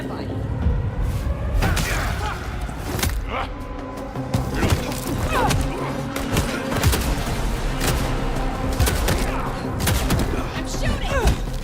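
Repeated gunshots in Vampire: The Masquerade – Bloodlines 2 gameplay, sharp cracks and thuds scattered irregularly over rumbling game sound, loud and close, with a voice speaking at points.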